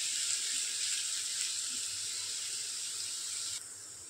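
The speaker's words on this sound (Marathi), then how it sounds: "कांदा गुलाबी करून घेऊ आपण।" Onion and curry leaves sizzle steadily in a hot pan, a continuous bright frying hiss that holds even and fairly close before dropping slightly near the end.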